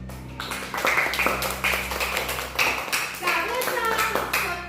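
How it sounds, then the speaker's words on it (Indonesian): A classroom of students claps for a classmate, with bright, uneven hand claps in loose bursts that keep going, plus a few voices talking softly underneath. "tepuk tangan buat Yosua"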